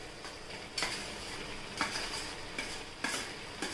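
Potatoes are stirred into cooked onions in a pan for masala dosa: a soft sizzle runs underneath while a spoon scrapes and clatters against the pan in four distinct strokes.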